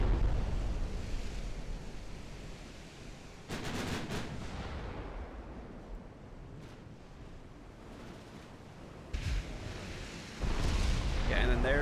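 Incoming naval shellfire in the warship battle game Ultimate Admiral Dreadnoughts, heard as deep rumbling booms and splashes that swell over a steady roar of sea and battle, with a few sharper bursts near the end.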